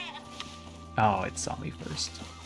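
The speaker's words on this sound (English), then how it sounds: "I heard a goat." Goat bleating in the survival video game Icarus: a single loud harmonic bleat near mid-clip, with someone speaking briefly just after it over faint steady game ambience.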